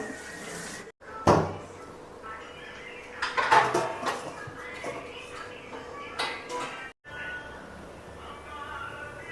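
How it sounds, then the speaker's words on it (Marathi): A lid being set onto a cooking pot of marinated green chicken: a couple of close metallic clanks and rattles of cookware, with softer handling noises in a quiet kitchen before and after. "याच्यावर आता आपण झाकण देऊया"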